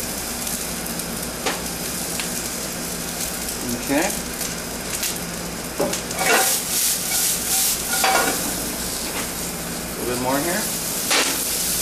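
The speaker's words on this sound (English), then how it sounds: "A little quick saute." Garlic and pork shank sautéing in a pan, a steady close sizzle with bursts of stirring and scraping against the metal, while a person briefly speaks over it.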